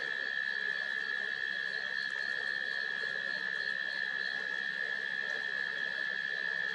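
Green tree frogs in the bush near Sydney give a constant, high, steady chorus of calls that fills the whole stretch at moderate loudness, with no voices.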